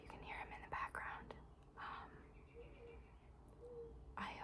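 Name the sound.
mourning dove cooing outside window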